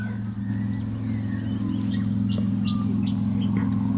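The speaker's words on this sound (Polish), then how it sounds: "Słyszycie te ptaki." Scattered bird chirps, faint and somewhat distant, ring out on a morning at a campground in Australia, over a steady low mechanical hum.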